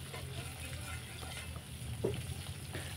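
Small puti fish frying in a pan make a faint, steady sizzle with occasional stirring scrapes, heard close by and without talk.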